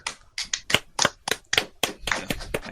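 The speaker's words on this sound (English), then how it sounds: "celebratory clap." A small group of people gives a short burst of celebratory clapping, about ten distinct, close, sharp claps in an irregular rhythm, loud and dry with no talking over them.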